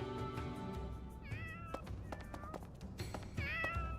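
A cat meows several times in a row, with short, clear, rising and falling calls standing out over a steady background hum and faint tapping.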